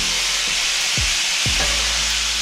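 Fire-roasted tomatoes, mushrooms and onions sizzle on a hot griddle for a pork chop dish, a steady close hiss broken by a few low scraping knocks of a spatula, with no talking.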